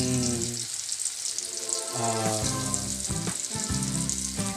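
Close, steady sizzling and crackling of pork frying in a hot pan, with occasional spatters and faint background music.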